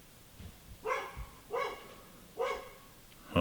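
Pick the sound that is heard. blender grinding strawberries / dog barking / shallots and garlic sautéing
dog barking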